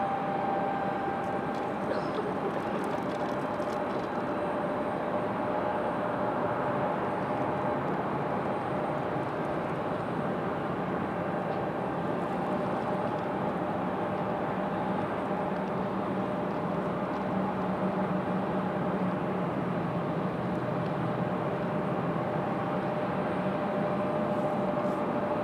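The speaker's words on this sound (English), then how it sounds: "Beautiful shot of Southwest. Touching down." A Southwest Boeing 737 MAX 8 touches down on the runway at Raleigh-Durham International, a steady, moderately distant jet roar with a constant whine, sustained throughout.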